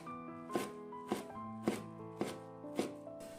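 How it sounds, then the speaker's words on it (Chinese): Knife chopping drained Chinese toon leaves on a cutting board, five evenly spaced thuds heard faintly over steady background music. "接下来把控干水分的香椿放在案板上给它切碎"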